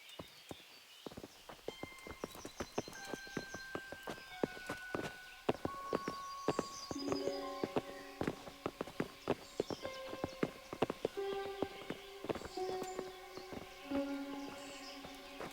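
Horses clip-clop at a walk in Kingdom Come: Deliverance, hooves striking in an irregular, close rhythm throughout, with tonal music and faint ambient sounds layered underneath.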